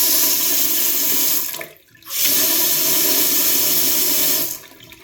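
Water gushes from a Caroma Cirrus mixer tap into a sink in two steady bursts, pausing briefly in between and stopping near the end.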